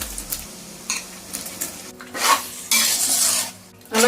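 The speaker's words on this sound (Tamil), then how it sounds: "நல்லா கிளறி விட்டுக்கலாம்." Tomatoes being stirred into veg biryani masala with chilli powder, ginger and garlic in a pan: scraping stirring strokes and utensil clinks over a soft sizzle, growing louder toward the end.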